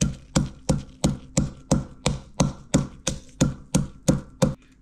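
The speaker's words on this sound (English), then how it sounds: "I'm going to put 3 right here, and I'm just pound it a little bit." Chili peppers pounded in a mortar for green papaya salad: about a dozen sharp, evenly spaced thuds, close and loud, each with a short decay, with no talking.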